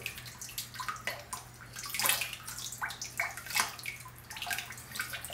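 Pottery glaze pours into a bucket as a soft, uneven stream of splashing and trickling, swelling and easing in gentle waves over a low steady hum, quiet and close.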